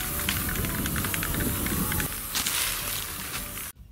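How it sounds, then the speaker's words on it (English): A spray can hisses continuously and close up as paint is sprayed onto a recycled tire planter, a broad steady hiss with small sputters that cuts off abruptly at the end. "we sprayed the other two, a pastel pink and a purple"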